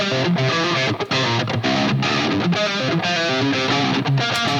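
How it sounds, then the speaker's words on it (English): A single-coil electric guitar with a twangy Telecaster tone plays a lead line through distortion on the neck-and-middle position of a five-way switch, nasal and bright, sustained notes with quick changes, loud and alone without any talk. "I'm getting that really twangy kind of telly sound, and I'm accentuating that kind of nasal frequency that comes with single coils through distortion"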